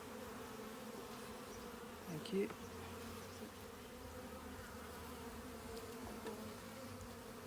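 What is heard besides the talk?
honey bees buzzing in an apiary hive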